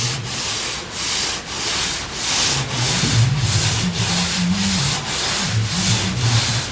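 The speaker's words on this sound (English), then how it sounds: "we've got to rub all this back, take all the high spots and out of it" Body filler being sanded back on a car panel during a VC Brock build, a steady coarse abrasive rubbing that strokes back and forth in cross-hatch passes, close and continuous with a low rumble beneath.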